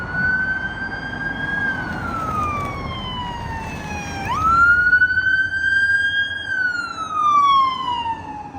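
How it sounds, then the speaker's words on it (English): A wailing siren sweeps slowly down and back up in pitch, loud and steady over a low traffic rumble, with no speech. "We had so much sirens."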